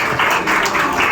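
An audience at a Telugu gathering on Adivasi rights gives a short, close burst of applause, a dense rattle of clapping with slight swells.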